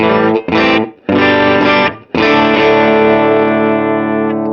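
Distorted electric guitar played through the built-in impulse response of a NUX Mighty Plug headphone amp modeller: two short chopped chords, a longer chord, then a big sustained chord ringing out loud and close.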